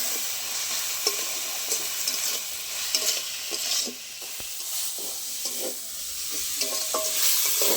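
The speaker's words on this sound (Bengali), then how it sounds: "সব মশলাগুলো একসাথে ভালো করে কষিয়ে নেব" Ground spices with turmeric and coriander powder frying in a pan for fish-head moong dal, a close, steady sizzle with repeated scraping stirs and light clinks, no voices.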